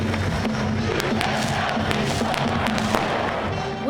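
A packed Thomas and Mack Center crowd roars steadily throughout at a basketball rivalry game against UNR, with dense cheering and shouts from a large indoor arena audience.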